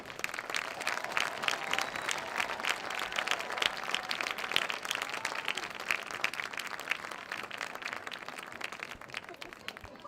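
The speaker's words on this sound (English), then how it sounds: "will you please give one last round of applause for all of these men and women who" A crowd at a Mississippi high school football game applauds veterans and service members, with steady, dense clapping sustained throughout and faint murmuring mixed in.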